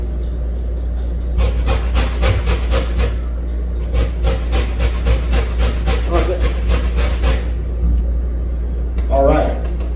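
A whole orange is zested with quick, rhythmic rasping strokes, a steady close scraping run that pauses briefly midway and then resumes, over a low background rumble with someone talking.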